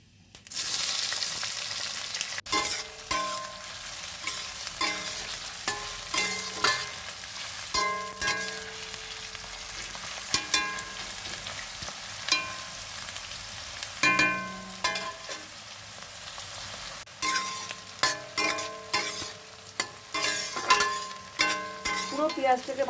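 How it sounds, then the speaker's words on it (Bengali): Onions sizzle in hot oil over tempered whole spices while a utensil stirs them, scraping and clattering in irregular bursts against a constant frying hiss, with no speech. "তো ফোড়নটা ভাজা হয়ে গেছে, এবার আমি পেঁয়াজ দিয়ে দেবো।"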